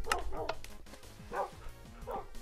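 A dog in Minecraft barks in quick bursts, two or three sharp yips over chiming game sounds and a faint background voice.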